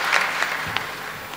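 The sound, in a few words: audience applause welcoming students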